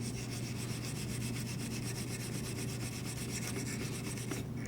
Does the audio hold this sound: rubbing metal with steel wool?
yes